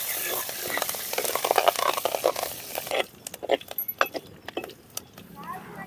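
Mustard seeds and crushed garlic crackle and sizzle in hot oil while tempering a rasam, with sharp popping bursts and a soft voice in the background.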